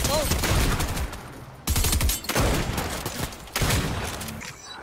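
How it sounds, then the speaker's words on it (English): Video game gunfire erupts in heavy bursts of rapid shots, loud and close, cutting in and out in three sustained volleys. "Are you getting shot, Gio?"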